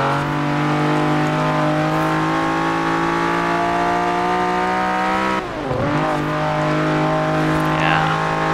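Steady engine drone of a 1968 Ferrari 365 GTB/4 in Forza Horizon 4, loud and close with a strong harmonic hum, briefly dipping as it shifts before settling back to a constant tone.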